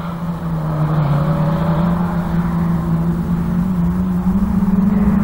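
Autograss race car running hard on a dirt oval during a finals race, its engine a loud, continuous close drone that holds steady and rises slightly toward the end as it works around the outside of a saloon car.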